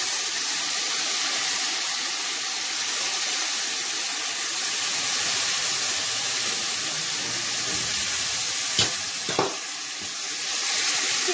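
Half an onion frying in oil in a pot: a steady, close, loud sizzle that holds through the whole stretch, with a couple of brief clinks or stirring sounds near the end.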